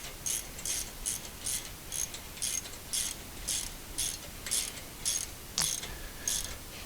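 A ratchet clicks in steady rhythmic bursts while tightening 13/16 nuts on a 1/2 inch fine thread spindle of a metal cutting bandsaw mobile base, close and crisp with a brief metallic clink partway through.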